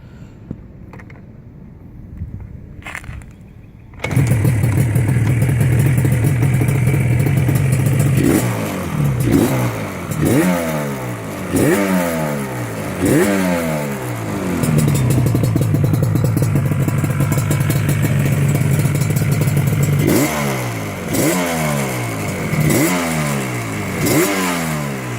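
A Yamaha RD350LC two-stroke motorcycle engine starts after a few faint clicks, then idles loudly with repeated sharp revs climbing and dropping, close up and with no talk.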